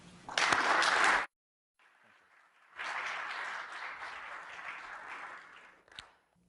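An audience welcoming a lecturer to a talk: a burst of loud applause, a short pause, then a longer round of steady clapping that fades out.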